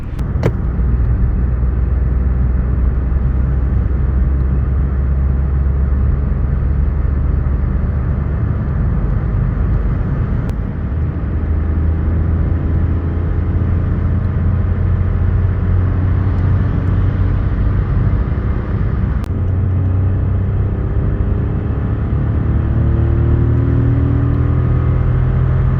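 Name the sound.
Suzuki Swift 1.2 DualJet three-cylinder engine growl while driving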